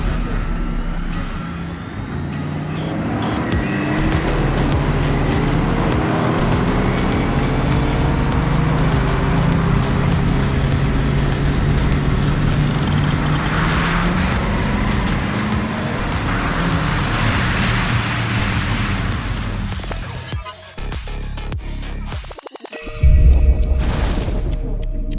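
A Mercedes-AMG roadster at full throttle from about 60 km/h, a loud, steady engine roar that holds strong for around twenty seconds before easing off, with a brief thump near the end.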